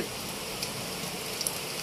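Rain from a rainstorm falls steadily, a continuous close hiss of drops with no pauses and no voices.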